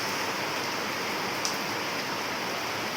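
Steady monsoon rain in the Konkan hisses evenly throughout, a dense wash of drops with no voices, one faint brief tick near the middle.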